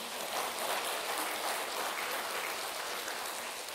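A church congregation bursts into sustained applause, a dense, steady wash of clapping that fills the whole space evenly from start to finish with no talking over it.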